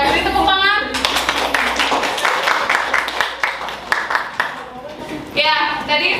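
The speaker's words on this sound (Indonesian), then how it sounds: "beri tepuk tangan" Classroom applause after a student group's presentation in an Indonesian school lesson: dense, steady hand clapping from many pupils lasting several seconds, with children's voices and chatter mixed in around it.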